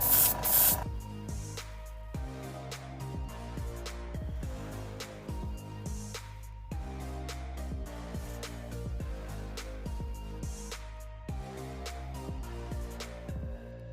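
An airbrush spraying white paint onto Jordan 3 sneakers, a steady faint hiss of air running alone, broken by brief pauses and clicks as the trigger is pulled and released.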